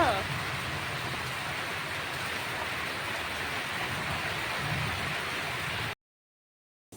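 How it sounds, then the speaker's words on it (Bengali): Heavy rain pours during a thunderstorm, a steady dense hiss that continues evenly for about six seconds before cutting off abruptly into silence. "এখন বৃষ্টিটা কমে গেছে"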